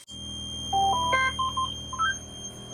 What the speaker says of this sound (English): Let's go ahead and build up some air so we get that buzzer to shut off.